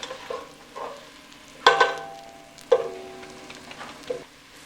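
Onions cooking in a pan for Filipino chili picadillo, mostly quiet with a few sharp metallic clanks and scrapes of a utensil against the pan at irregular intervals.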